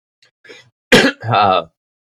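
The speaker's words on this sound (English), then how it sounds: "I like that marijuana smoker's cough in the middle of the reading." A marijuana smoker's cough: a raspy, phlegmy throat-clearing cough close to the mic, a sharp burst followed by a rough, rattling hack.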